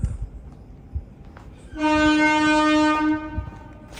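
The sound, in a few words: passing train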